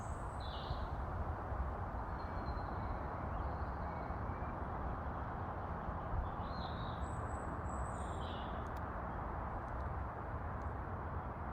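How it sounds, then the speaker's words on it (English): Birds sing in a forest with a few faint, scattered chirps and short calls over a steady background rush, distant and soft throughout. "the birds are singing as well"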